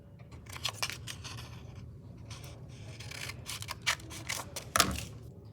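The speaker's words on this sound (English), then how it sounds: "with the extra pieces that you have, you might want to cut some smaller pieces" Scissors snip through paper pieces for a craft of aspen trees, a quiet run of short, crisp cuts in uneven bursts at close range, with no talking.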